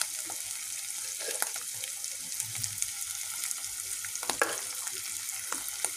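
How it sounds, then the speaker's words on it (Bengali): Potatoes fry in a pan with a soft, continuous sizzle broken by scraping stirs and small clinks, fairly quiet and close, without any voices. "আলুটা দিয়ে আমি আলুটাও একটু ভাজা ভাজা করে নিয়েছি"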